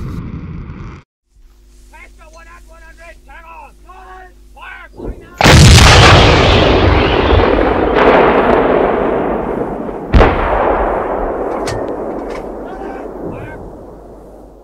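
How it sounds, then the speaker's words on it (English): Recorded gunfire from a 1990s hi-fi test CD: faint mechanical clatter and squeaks, then a huge close blast with a long rolling decay, followed by a second sharp shot that also rings out. "The gunfire and the Chieftain tank track are especially impressive"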